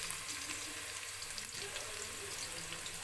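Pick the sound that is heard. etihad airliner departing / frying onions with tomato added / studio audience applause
frying onions with tomato added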